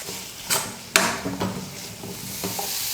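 Cut coconut is sautéed with tomatoes in oil for a brinjal gravy, as a spatula scrapes the pan in several sharp strokes over a soft continuous sizzle, close by and without speech.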